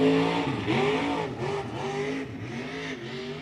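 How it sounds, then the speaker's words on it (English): An Outlaw modified race car circles a speedway track with the throttle feathered, its engine holding a loud, steady drone that rises and dips as it passes close by. "Trying as best he can to feather the throttle, just getting around this track. One more lap for that Outlaw modified."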